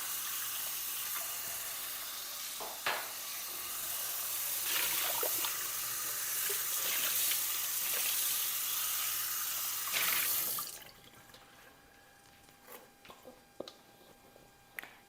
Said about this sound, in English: I'm gonna wash this bowl out real quick